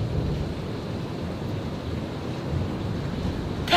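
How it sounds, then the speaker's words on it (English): A severe thunderstorm rumbles on without a break, a deep rolling roar mixed with the hiss of rain and wind buffeting, loud and unbroken for a few seconds with no voices. "Listen to that storm."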